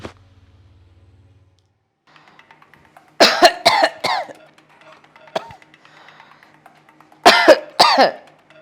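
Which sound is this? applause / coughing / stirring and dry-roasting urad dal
coughing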